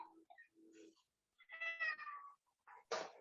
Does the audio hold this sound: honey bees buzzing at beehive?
no